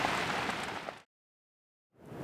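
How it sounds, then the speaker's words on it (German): Dense rain of countless drops pours down in Lisbon at night, a steady close hiss that cuts out into silence and then returns. "Und es regnet wie aus Kübeln."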